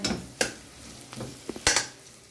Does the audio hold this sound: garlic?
yes